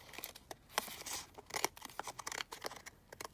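Scissors snip through paper for a collage: a run of crisp, close cuts in an uneven rhythm with short pauses between snips, no talking.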